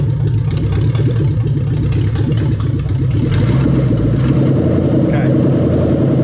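Toyota 1UZ-FE V8 on a Link standalone ECU idling loudly and close, a steady low rumble that settles slightly smoother partway through.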